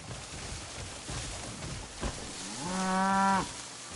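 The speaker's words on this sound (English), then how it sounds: "It's a cow!" A cow in the video game Crimson Desert gives a single drawn-out moo near the end, rising clearly over a steady background of ambient game noise.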